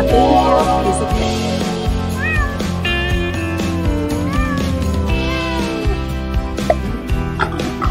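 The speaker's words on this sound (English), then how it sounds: "Guess the baby cat." A cat meows in a children's baby-animal guessing game, giving a few rising and falling meows in the middle of the clip over continuous background music.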